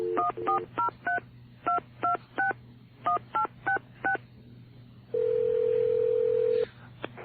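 A cell phone number is keyed in as a quick series of clear DTMF touch-tone beeps in uneven bursts, followed by a long steady tone and a final short beep, with no talking.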